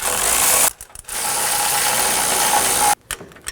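Ratchet wrench snugging down front bumper bolts on a Ram 2500 pickup, loud rapid clicking in two sustained bursts separated by brief pauses and ending in short choppy strokes, close up with no talking.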